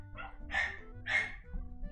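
A dog gives two fairly quiet, sharp barks about half a second apart over a low background hum.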